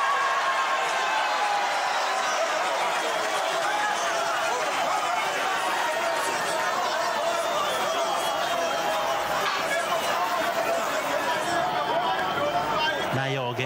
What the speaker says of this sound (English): There is whistling, ululating, and joy among everybody here.